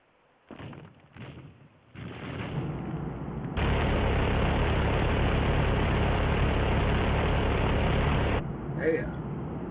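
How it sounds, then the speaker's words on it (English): A Teardown airstrike comes in as a loud, sustained roaring rumble that rises after short thuds and holds for several seconds before cutting off. "Airstrike."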